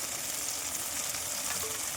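Chopped onions fry in oil with dried chilli and cinnamon, a steady, even sizzle at moderate level with no talking over it.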